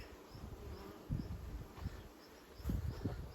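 Honey bees buzz steadily at close range, a dense hum with occasional louder swells as individual bees pass near.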